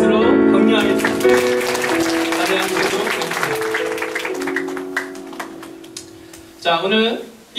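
A church youth-rally audience breaks into applause, a dense burst of clapping that starts loud and tapers over several seconds before a short fresh surge near the end, with musical tones sounding underneath.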